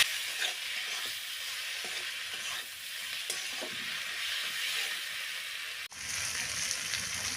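Spice paste with tomato and green chili fries in a pan, a steady hiss of sizzling with intermittent utensil scrapes and stirring, close and moderately quiet, the sizzle briefly dipping near the end.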